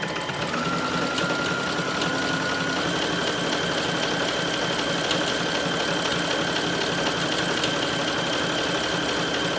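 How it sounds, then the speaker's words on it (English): A sewing machine running continuously, top stitching a cardigan pocket with a long stretch stitch, a steady close rapid mechanical whir and rattle throughout. "I'm gonna top stitch it with an even longer stretch stitch."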